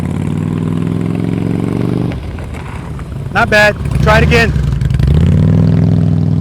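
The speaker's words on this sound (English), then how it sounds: "he's just starting out on this motorcycle" A beginner's motorcycle engine idles steadily during slow-speed riding practice, then rises in two short revs. A man gives brief spoken coaching between the revs.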